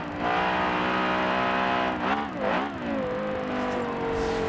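A high-pitched Porsche Carrera GT engine in the racing game Forza Horizon 2 revs hard and steadily, dipping briefly as it shifts or brakes, then climbing again; loud and close, no voices.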